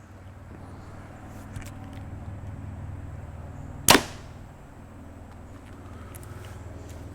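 An arrow leaves a PSE Xpedite NXT compound bow through a chronograph with a single sharp, close snap and thwack, preceded and followed by steady low room hum.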